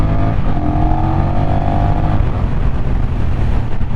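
A Honda CMX1100 motorcycle engine revs up loudly and close in standard mode, its tone rising as it accelerates, then settles into a steady roar of wind and engine.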